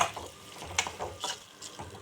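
A spoon stirs bottle gourd chutney into tempering in a pan, making a few soft, irregular scraping clicks, close and quiet, with no voices.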